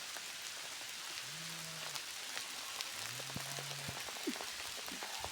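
Hail falls steadily in a dense, even patter of small impacts on surfaces nearby. The sound is continuous and moderately loud, with a faint low hum in the background and no voices.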